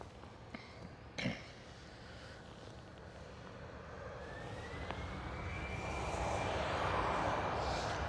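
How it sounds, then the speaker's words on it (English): EasyJet Airbus A319 airliner passing at Schiphol Amsterdam, a faint engine hiss that starts distant and grows into a broad roar with a rising whine, preceded by a few soft knocks. "Next one up, EasyJet"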